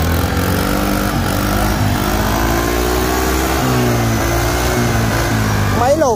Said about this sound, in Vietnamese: Máy nổ cực kỳ êm luôn nha anh em.